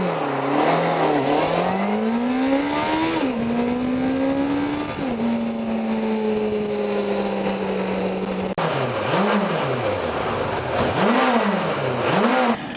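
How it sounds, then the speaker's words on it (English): A 2006 Suzuki GSX750F motorcycle engine without its exhaust fitted is revved repeatedly up and down, rising and falling in pitch, loud and near, then blipped in quick bursts toward the end. "this is what the bike sounds like before fitting the exhaust."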